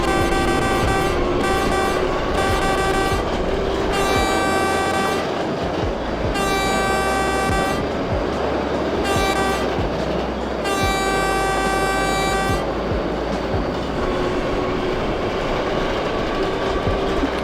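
A subway train departs Rockaway Parkway in the OpenBVE train simulator with a loud, continuous rumble and repeated bursts of a harmonic horn or whistle tone in uneven on-off patterns, without speech.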